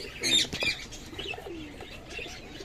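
Cockatiels in a cage flutter briefly, with soft wingbeats and a few faint chirps heard close by over a short moment.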